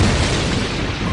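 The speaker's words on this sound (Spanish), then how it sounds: "Algunas estrellas al morir producen una explosión supernova." A loud, dense broadband rumble standing in for a supernova explosion, a continuous roaring blast that fills the whole short stretch without any voices.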